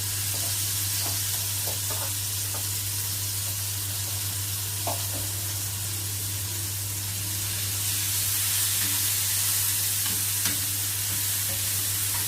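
Garlic frying in ghee gives a steady, loud, continuous sizzle with occasional stirring scrapes, a constant low hum beneath it and no voices.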